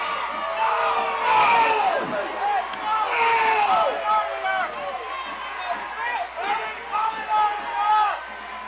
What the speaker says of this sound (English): Malvern crowd unhappy with the call.